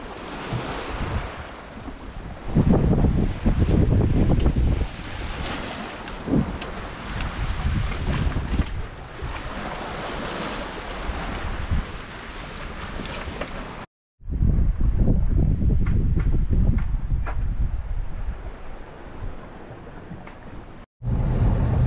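A sailboat underway under sail at about 5.5 knots on open sea, with loud steady wind buffeting the microphone, rushing water and waves along the hull, continuous throughout with a brief cut near the middle.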